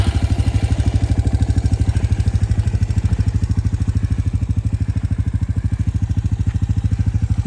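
Suzuki LT-Z 250 ATV engine idling steadily after a push-button start, a close, loud, even rapid thumping putter that holds its rhythm with no talk over it.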